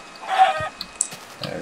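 Clucking from a blocky farm chicken in a Minecraft-style survival game, a short squawking burst followed by a few scattered clicks and a quieter low sound, fairly close and with no talking.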